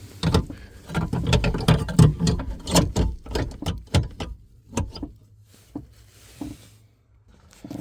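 A scissor jack from the spare tire kit of a 2010-2021 Mitsubishi Outlander is turned clockwise into its mount, giving a run of close, sharp metallic clicks and clunks that taper off into quiet.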